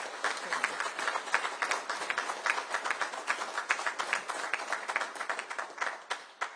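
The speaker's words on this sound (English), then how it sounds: "Would you please give her a round of applause?" Audience applause at a Customs and Border Protection training center event, a steady wash of many hands clapping with dense individual claps, moderately loud and continuous, fading slightly at the end.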